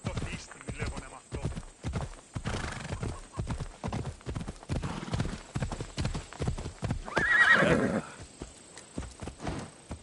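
In Assassin's Creed Odyssey, a horse gallops with a steady, rapid clip-clop of hooves and a loud whinny near the end, while voices speak over the hoofbeats.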